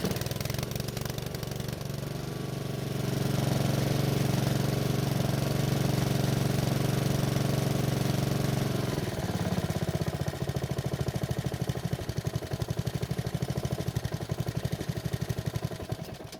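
A poorly maintained Honda small engine runs steadily with a droning hum, then its tone drops and becomes a rougher, rapid chugging for the rest of the clip.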